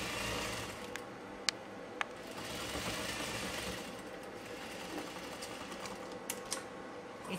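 Sewing machine stitching a blouse at a ladies' tailor, a quiet, faint mechanical whirring with a few sharp clicks, heard fairly close with no talk.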